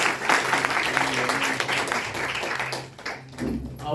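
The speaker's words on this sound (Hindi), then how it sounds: "एक बार जोरदार ताली बजाएंगे बहन के लिए।" Loud applause from an audience greeting a woman about to address a public welcome event, dense steady clapping that thins out near the end under some crowd noise.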